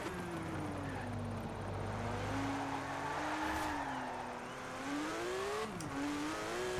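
A Porsche 914 fitted with a monstrous engine in Forza Horizon 4 revs and accelerates, its tone rising and dipping through gear changes, steady and fairly close, with someone talking over it.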